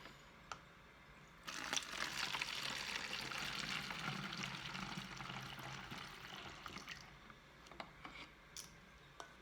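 Water pours steadily for several seconds, a close splashing rush, preceded and followed by a few small clicks and knocks.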